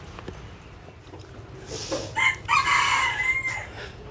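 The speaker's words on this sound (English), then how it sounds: "Got chickens in here." A rooster crows loudly and close by, with a few chicken clucks around it, over a quiet background hum, at a rural warung in Bali.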